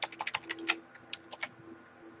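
Rapid keystrokes on a computer keyboard as an administrator username and password are entered during a Forcepoint DLP software install, a quick run of close, crisp clicks with short pauses in a quiet room.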